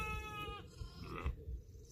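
A sheep on a farm, near a newborn lamb, gives one close, wavering bleat and then falls quiet, with soft rustling and low farmyard noise.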